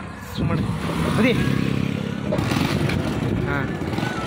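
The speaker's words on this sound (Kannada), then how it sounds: "ನೋಡ್ರಿ ಹಳೆ ಬೈಕ್ ರೀ ನಮ್ದಿದೆ." An old motorcycle rides along a village road, its engine droning steadily and close throughout while people talk over it.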